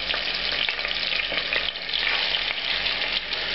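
Chicken pieces frying in foaming butter and oil in a pan give a loud, steady sizzle with crackling spatter that runs unbroken throughout, with no one talking.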